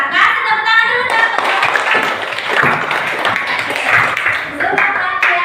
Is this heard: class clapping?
yes